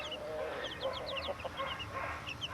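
Chickens chirp and cluck in quick high bursts, with a low rooster call and scattered farmyard noise around them.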